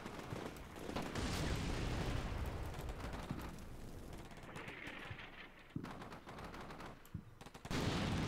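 Artillery rounds landing and gunfire in the Combat Mission Black Sea video game: scattered sharp gunshots and heavy booming impacts, fairly faint and distant, with rumbling blasts breaking up the battle noise.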